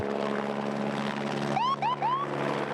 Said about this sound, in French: L'intervention d'un hélicoptère bombardier d'eau prouve la précision de son largage d'une capacité allant jusqu'à 4000 litres.